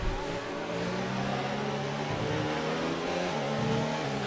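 A race car in a British GT racing video game holds a loud, continuous engine rev with a steady buzzing tone that dips and climbs slightly in pitch, heard up close.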